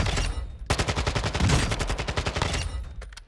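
Automatic fire from an assault rifle built to handle like an SMG in Call of Duty MWII DMZ, with rapid, loud bursts of shots that break off briefly and end in a few single cracks.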